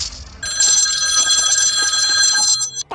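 A phone rings with a bright, buzzy electronic trill, loud and close, sounding continuously for a couple of seconds before cutting off.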